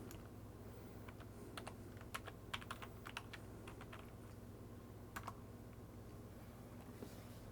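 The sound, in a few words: typing a password on a computer keyboard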